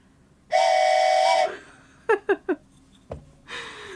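A train whistle sound effect blares as one sustained, bright, loud blast, followed by a quick burst of three short rhythmic hoots, a clunk, and the start of another whistle.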